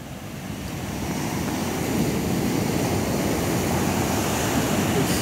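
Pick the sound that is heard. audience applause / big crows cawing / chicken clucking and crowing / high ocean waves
high ocean waves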